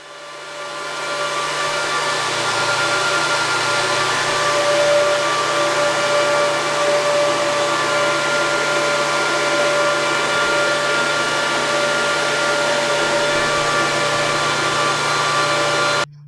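Loud, steady roar of a cryptocurrency ASIC miner with whirring fans and a high electrical whine, constant and close for the whole stretch, no voices.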